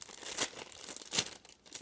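A small plastic bag holding the pieces of a sublimation journal crinkles softly up close, a couple of brief rustling bursts.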